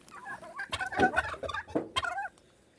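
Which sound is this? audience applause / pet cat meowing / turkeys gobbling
turkeys gobbling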